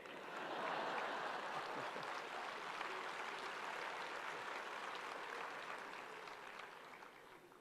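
Faint, steady audience applause at an education conference hall, a dense continuous wash of many hands clapping that slowly tapers off over several seconds, with no talking.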